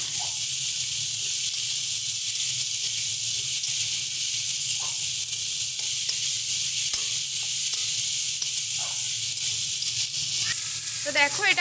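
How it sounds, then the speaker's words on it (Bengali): Okra that was fried beforehand is stirred into a sizzling pan for an okra and prawn dish, giving a steady, close frying hiss throughout with a few faint stirring scrapes and no talk. "ভেন্ডিটা দিয়ে এটাকে ভালো মতন করে মিশিয়ে নেব।"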